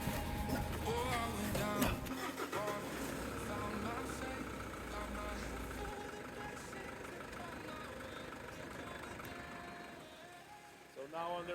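The engine of a fourth-generation Mitsubishi Pajero starts and settles into a steady idle, a continuous low rumble under a person talking, with a few clunks and a rough patch near the start.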